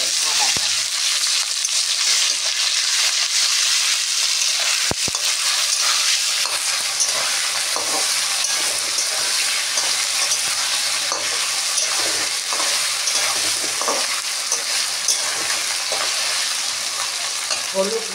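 Ginger paste sizzling gently in oil in a pan, a continuous close frying hiss with soft stirring scrapes throughout and an occasional sharp knock of a spoon.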